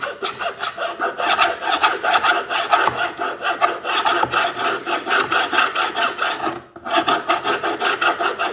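A file rasps old material out of a wooden part of a century-old organ being restored, in loud, close, rhythmic back-and-forth strokes that run steadily with one brief pause and no talking.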